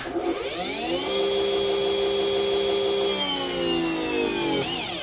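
EGO 56V cordless pressure washer running on turbo: a loud, close motor whine that rises quickly, holds a steady tone for several seconds, then winds down at the end.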